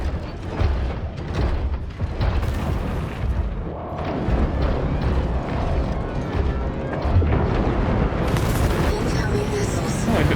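Orbital strike explosions in the mech combat game War Robots Frontiers: dense, continuous booms and blasts with mechanical clanking, loud and sustained over rumbling battle noise, with a voice talking through it.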